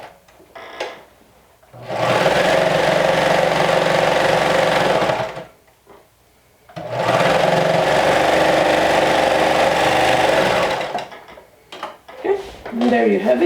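A serger stitching a sleeve seam on a lumberjack-style garment, trimming the basting stitch as it runs: two steady motor bursts of about four seconds each separated by a pause, close and loud, with brief handling noises between.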